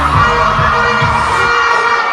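A loud live crowd cheering and shouting at a school stage show, a dense continuous roar with rhythmic low thumps from stage music underneath.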